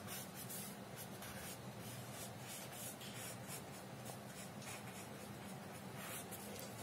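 A pencil and smudging tool rubbing and shading graphite on drawing paper, a steady soft scratchy scrubbing heard close and alone.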